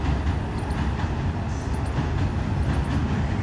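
A train rumbles past close by, a steady heavy roar of wheels and carriages that fills the whole stretch without letting up.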